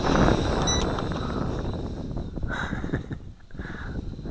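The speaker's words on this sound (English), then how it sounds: "That wind is picking up big time." Strong wind blows outdoors, buffeting the microphone with loud, gusty rumbles that ease briefly and then return, while faint mechanical whines from a small micro drone come and go.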